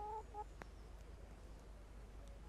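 A chicken gives a couple of short clucks near the start in Kingdom Come: Deliverance, followed by quiet ambience and a faint click.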